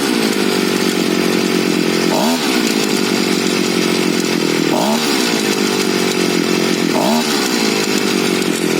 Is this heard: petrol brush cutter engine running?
yes